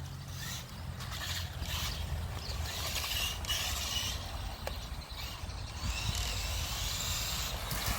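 The stock 20-year-old electric motor of a Tamiya Super Hornet RC car runs on a 3000 mAh NiMH battery, making a continuous faint whirring and mechanical rattle that stays fairly steady throughout.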